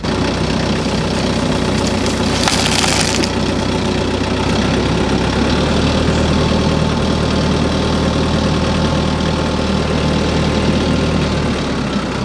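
A heavy engine on a machine with fluid-filled rear tires idles loudly and steadily up close, with a brief hiss partway through and no voices.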